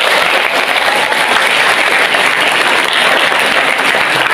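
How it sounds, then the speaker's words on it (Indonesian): Audience applauding at a school award ceremony for SMA 1 Gondang in Mojokerto, East Java: dense, continuous clapping from many hands, loud and sustained without pause, with no voices over it. "Tepuk tangan untuk kita semua"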